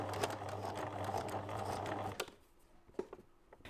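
A sewing machine stitches fabric for a reversible drawstring bag, humming steadily up close for about two seconds before stopping, followed by a few soft clicks and handling sounds.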